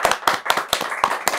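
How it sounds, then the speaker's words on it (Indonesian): An audience claps in a few sharp, separate bursts, roughly six crisp hand claps spaced evenly and close by, with short quiet gaps between them. "tepuk tangan buat Kak Risa"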